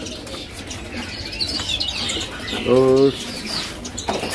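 A caged songbird in a bird shop gives one short, clear call, close by, over a background of shop noise and someone speaking.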